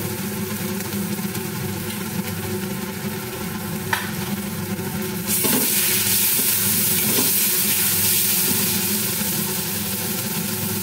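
Ground turmeric, cumin and coriander powder with a little Kashmiri chilli fry in hot oil, giving a steady close sizzle with faint stirring scrapes that swells louder midway through, with no talking.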